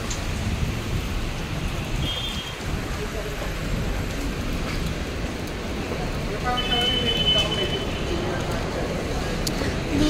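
Heavy rain pours steadily in a continuous broadband roar on a slippery street, with faint voices and street bustle mixed beneath it.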